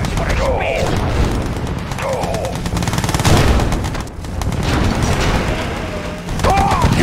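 Guns fire in the strategy video game Mental Omega during an Epsilon co-op mission, with rapid bursts of gunfire and booms over steady battle noise, mixed with short spoken unit announcements.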